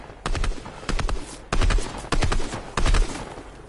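Bursts of rapid gunfire in the battle royale game Fortnite, five loud volleys with short pauses between them, close and punchy.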